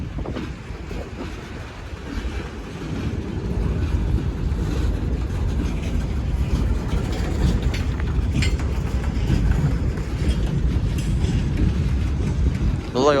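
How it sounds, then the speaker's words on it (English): A long freight train rolls past at the International Bridge on Unity Island, making a continuous heavy rumble of wheels on rails that swells and holds steady, with clanking and squealing on top. "Looks like a long train coming"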